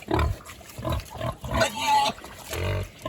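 Pigs on a small farm grunt in short, deep bursts close by, several rough snorts spaced irregularly with brief pauses between them.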